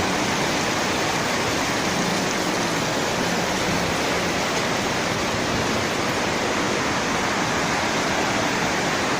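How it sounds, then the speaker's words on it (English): Heavy rain pours down in a downtown street, a dense, constant roar of water falling on the surroundings, loud and unbroken throughout. "decided to start raining."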